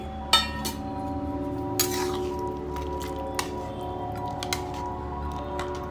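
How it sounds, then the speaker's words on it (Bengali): Mung dal with spices and fried fish heads being stirred in a pan, giving soft scraping with a few sharp clinks of a utensil against the metal over a steady low hum, no talking. "মশলার সাথে ডালটা খুব ভালো করে একটু নাড়িয়ে নেব"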